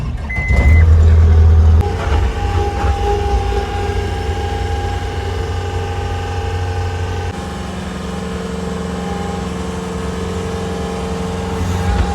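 A farm tractor engine runs steadily nearby with a low, constant idle drone, louder at first and then settling; no talking.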